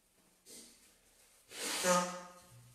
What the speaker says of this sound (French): Allez, je vais me moucher.